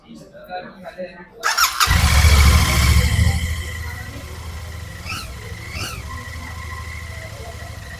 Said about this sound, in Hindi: हम एक बार इसकी आवाज़ सुन लेते हैं इंजन की